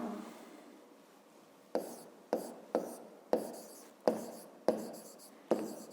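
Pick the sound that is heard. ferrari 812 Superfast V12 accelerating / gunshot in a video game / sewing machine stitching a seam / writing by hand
writing by hand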